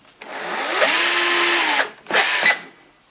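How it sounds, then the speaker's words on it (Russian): Two bursts from a small power drill with a 2 mm bit nearby, one long whine followed by a shorter one, with quiet in between. "Берем сверлышко на 2 мм и производим аккуратненькое сверление."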